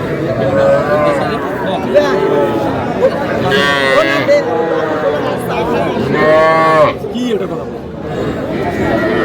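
A bull calf moos several times, drawn-out bellowing calls close by, with people chattering and bargaining at a cattle market in the background throughout.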